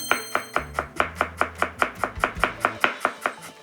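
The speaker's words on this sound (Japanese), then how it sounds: "生姜をみじん切りして" Fresh ginger minced with a kitchen knife on a cutting board, a steady run of about fifteen crisp, evenly spaced chops, close and fairly loud, with no talking.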